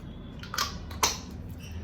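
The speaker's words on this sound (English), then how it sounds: "Spray it and let it sit on your face and then you are good to go." Two short, airy hisses from a sunscreen spray bottle, the second slightly stronger, come close to the mic over a low steady background.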